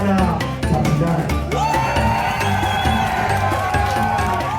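A crowd at a boxing night in Kenya roars and cheers in a sustained, loud wall of voices, with whoops and shouts rising through it and scattered talk mixed in.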